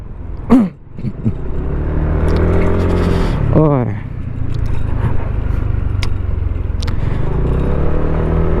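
A car driving along a residential side street, its steady engine rumble and road noise running continuously at close range, with a brief louder rev near the start and voices talking over it.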